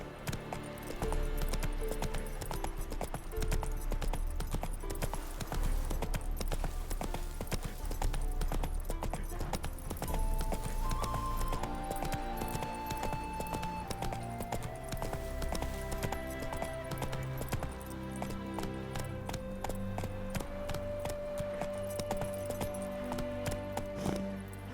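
Roach, a horse in The Witcher 3, gallops with hooves clip-clopping in a brisk continuous rhythm under sustained orchestral game music with long held tones.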